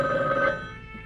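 A telephone ringing with a bright electronic ring that sounds steadily and then begins to fade, heard briefly and alone.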